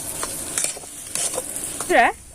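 A spoon stirs turmeric, chilli powder and salt into a potato filling for aloo chop, soft close scraping and light clinks against the bowl, with a brief tonal squeak near the end.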